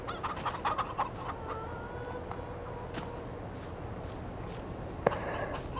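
Chicken clucking inside a video game, a run of short clucks and squawks near the start, then quieter calls over a steady game background, with a sharp click or hit near the end.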